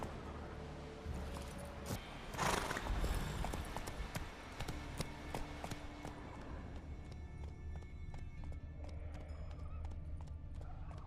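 Roach the horse in The Witcher 3 gallops with rapid clip-clop hoofbeats, breaking into a loud neigh early on, then keeps running at a steady pace.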